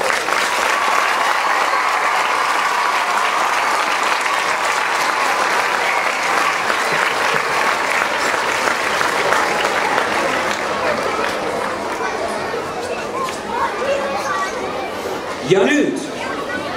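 Sustained applause from a large crowd at a gymnastics festival in Tartu, a dense, even roar of clapping filling the hall for over ten seconds, with chatter mixed in before it thins near the end.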